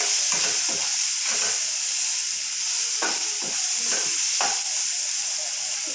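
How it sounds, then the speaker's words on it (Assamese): Spices and turmeric fry in a hot pan for an Assamese ridge gourd and fish curry, a loud continuous sizzle broken by several rhythmic scraping stirs of the spoon, with no talking. "এতিয়া মই অকণমান এইখিনি সময় ভাজি ল'ম।"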